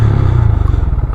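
A Honda Grom small motorcycle engine revs hard at close range in a short, loud burst with a fast pulsing throb and some mechanical clatter, heard on its own during a wheelie drill.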